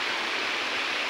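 Irrigation water diverted from a mud-and-grass check dam near Kirlos, Malvan, flows toward coconut and areca plantations, a continuous close rushing wash with no breaks and no talk.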